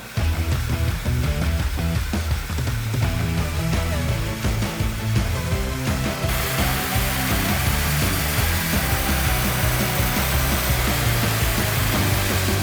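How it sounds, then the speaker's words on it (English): A Karcher IB740 dry ice blaster cleaning the hoses of a DeLorean during restoration, a loud steady rushing blast with rapid rattling pulses that runs continuously and grows harsher partway through. "So this is the Karcher IB740."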